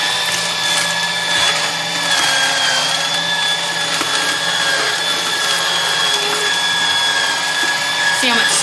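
A Canoly JE 68 juicer grinding celery, a steady loud motor whine with a sustained high tone running throughout, occasional crunching and clunks as stalks feed in, with people talking over it now and then.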